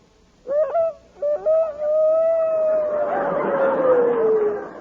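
A human voice mimics a rooster's crow: a few short clucking starts, then one long drawn-out call that grows breathy and trails off.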